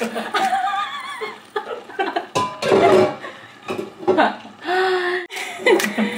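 A cooking pot clanks and scrapes now and then while people talk and laugh loudly over it nearby.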